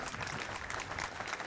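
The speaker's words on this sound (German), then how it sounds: "Ich habe mich noch über keinen Applaus so gefreut wie über diesen." Audience applause fills the room at a formal festive address in a hotel, steady dense clapping at even loudness throughout with no voices over it.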